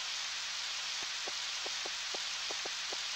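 Steady, even rain hiss from the Harvest Moon 64 video game keeps going throughout, with a few faint, soft ticks scattered over it and no voices.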